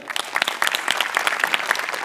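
A studio audience at a Marathi comedy show claps for the set crew, a short burst of dense, lively applause from a crowd at close range.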